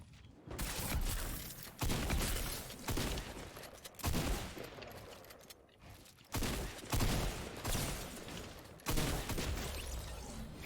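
Video game gunfire rings out in repeated loud bursts, automatic rifle volleys broken by heavy shotgun blasts, about half a dozen sharp onsets each trailing into dense crackling fire.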